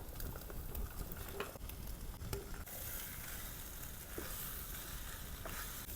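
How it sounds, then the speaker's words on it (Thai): Sausage, two eggs, cabbage and carrot frying in a pan for stir-fried instant noodles, with a steady, faint sizzle and soft crackle throughout and a few light stirring taps. "เป็นไส้กรอกหนังกรอบใส่ไข่ลงไป สองฟองเลย มีไข่ให้แตกใส่เป็นกระหล่ำปลีแล้วก็แครอท"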